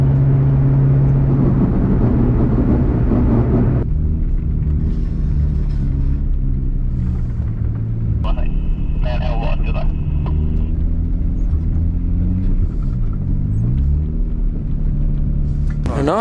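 A Toyota Chaser, the one fitted with a new exhaust, and two Toyota Aristo cars pull away together, giving a loud, steady engine rumble with some revving that rises and falls throughout, while voices are faintly present.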